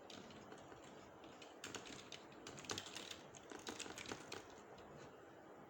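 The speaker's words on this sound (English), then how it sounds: "So I just type the text that is supposed to be there" Steady computer keyboard typing, a fast run of light clicky keystrokes with a few louder bursts, close and alone without talk.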